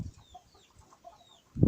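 Hybrid chickens, crosses of a pan hen and an extra-small silkie bantam, give soft scattered clucks and faint chirps nearby, followed by a louder burst at the end.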